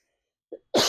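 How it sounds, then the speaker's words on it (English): A single short cough from an adult speaker, followed moments later by a louder, harsher burst like a throat-clearing cough, close and alone with no talk. "And here I am coughing"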